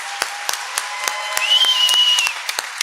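Graduates at the ATSU-MOSDOH 2021 commencement ceremony receive applause heard as scattered, distinct claps at a steady pace, moderately close, over a faint sustained tone.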